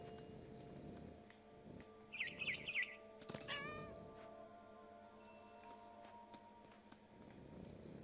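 Short high chirps from a bird in What Remains of Edith Finch come in a quick cluster over a low, steady ambient hum from the game, faint and brief, with a few soft clinks after them.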